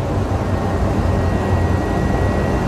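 Engines of a Ryanair Boeing 737 roar steadily at high thrust during a go-around, a loud, continuous broadband rumble with no talking.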